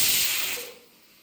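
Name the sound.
pressure cooker whistling and releasing steam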